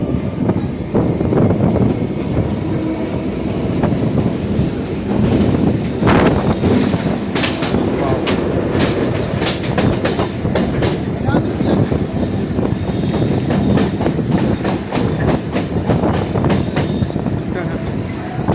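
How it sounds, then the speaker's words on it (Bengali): A train running along the rails near Babughat in Kolkata, a loud continuous rumble with rhythmic clattering of wheels, heard close up from on board, with voices faintly underneath. "বাসও চলছে আর এখানে ট্রেনও চলছে"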